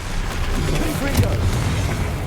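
A Confringo spell from Hogwarts Legacy bursts as a dull explosive boom amid a loud, noisy swirl of combat effects, with no clear separate hits.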